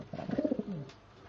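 Pigeons coo in a small 10x6 pigeon loft hut, a short run of soft, rounded, evenly pulsed coos close by, then fading to quiet room tone.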